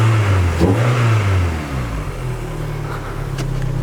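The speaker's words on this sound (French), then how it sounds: "Et maintenant on va aller démarrer la voiture." Peugeot 206 RC engine cranking to life and then revving, a loud close mid-pitched roar that surges early and settles into a steady higher-pitched rev, with no talk over it.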